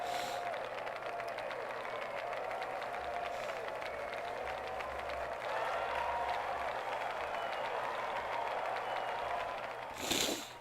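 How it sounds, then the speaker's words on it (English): A crowd applauds steadily at the award scene in Sega Rally 2, a continuous wash of clapping that runs the whole time at a fairly even, moderate level under faint game music. "And you actually get the crowd in that award scene."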